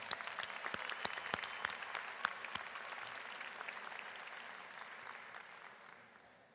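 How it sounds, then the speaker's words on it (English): Graduation ceremony crowd applauding in a large hall, sustained clapping with a few sharp close claps early on, fading gradually toward the end. "one more Bipsy round of applause"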